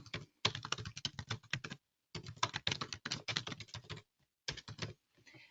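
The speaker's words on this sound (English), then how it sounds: "And you just click on this Add New Class button, and you type in the name." Quick keystrokes on a computer keyboard while a class name is entered, arriving in dense clattering bursts separated by short pauses, close and fairly quiet.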